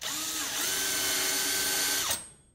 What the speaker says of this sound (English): Just do it with a combi drill to show that you can just do this anywhere. It's aluminium, drills nice and easy.